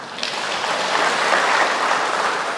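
An audience claps together in a steady burst of applause that holds at an even level throughout.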